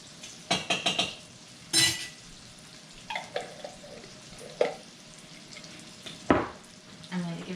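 Corn and zucchini soup vegetables sizzle in a pot while a utensil stirs and clinks against the sides in scattered scrapes and knocks over a steady frying hiss.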